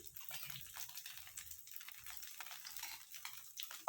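Oil drizzled around the edge of a crisp tomato dosa on a hot pan gives a soft, steady sizzling hiss, faint and close, with no talking.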